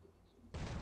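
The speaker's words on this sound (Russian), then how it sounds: "Взрываем где-то вот здесь в любом месте, вот здесь в этой стеночке." A sudden blast from an explosive blowing up a base wall in the game Last Day on Earth, breaking in abruptly after a quiet moment and staying loud and broadband to the end.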